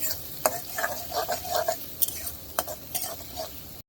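Onion, green chilli and garlic frying in a pan for dal bhuna, heard as scattered spatula scrapes and clinks over a faint sizzle, close up with short pauses between strokes.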